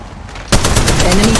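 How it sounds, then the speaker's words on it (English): Rapid automatic gunfire in the Apex Legends Mobile game erupts abruptly after a quiet half-second and continues as loud, fast bursts to the end. "Firing."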